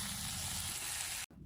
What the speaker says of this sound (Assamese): মছলাখিনি ইমান ধুনীয়া কৰি ভাজিছোঁ, পূৰা ক'লা হৈ গৈছে